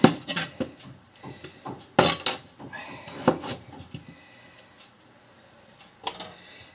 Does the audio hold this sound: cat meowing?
no